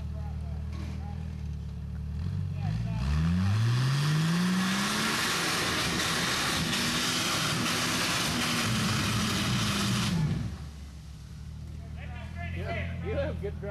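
An off-road rock crawler's engine revs up hard on a dirt and rock hill climb at Snowshoe, West Virginia, pitch rising steeply then roaring steadily for several seconds before cutting off, with spectators talking around it.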